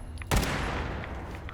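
A single loud gunshot from a weapon in the Fallout 76 video game cracks sharply and then trails off into a long, noisy decay.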